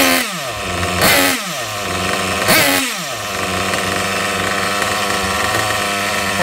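Hyper 7 Pro nitro engine running after carburetor tuning, loud and close, revving hard twice with quick throttle blips that fall back to a steady, buzzing idle, no talk.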